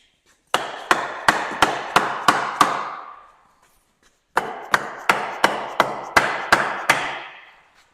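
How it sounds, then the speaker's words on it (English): Wooden wedges are hammered between a tractor's front axle and front axle support: two sharp series of seven and eight evenly spaced ringing blows, loud and close, separated by a brief pause. "Drive wooden wedges between front axle and front axle support on each side."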